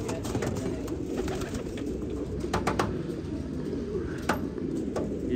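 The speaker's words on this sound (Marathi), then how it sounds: "आपल्याला सगळ्यात जुना कबूतर आहे" Racing pigeons in a loft during a pigeon-flying season coo steadily over a dense, noisy background, with occasional sharp clicks and flutters and no clear talk.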